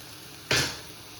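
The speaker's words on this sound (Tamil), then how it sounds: "அதுக்கப்புறம் பெருங்காயம் இது போட்டு வதக்கிட்டு" Asafoetida hits hot oil with dried red chillies in a pan while tempering a drumstick leaf sambar: a single sharp sizzling burst that flares loudly, then fades within half a second.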